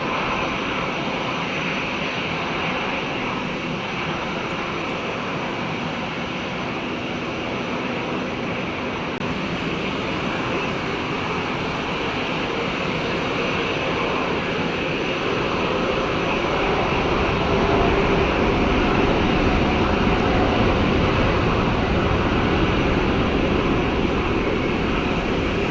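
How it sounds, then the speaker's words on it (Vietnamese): A China Airlines Boeing 737-300ER takes off from Tan Son Nhat airport, its jet engines giving a broad, sustained roar that swells louder toward the end, heard from a distance with no talk. "mời mọi người chiêm ngưỡng pha cất cánh của chiếc máy bay đầu tiên trong đội bay Boeing 737-300ER của China Airlines"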